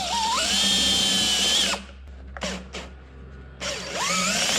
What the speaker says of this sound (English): So I'm just gonna run a drill through one of these holes here.